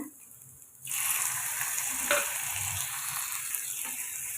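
Steady oil sizzle as chopped onions, tomatoes and curry leaves sauté in a hot pan, frying continuously with faint stirring scrapes and no voices.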